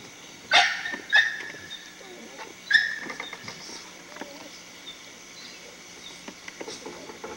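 A pit bull in a yard gives a few sharp, separate barks spaced over several seconds, fairly close, with quieter yips and rustling between them.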